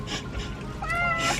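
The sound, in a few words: cat meowing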